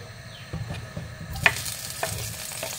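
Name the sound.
onions added to hot frying oil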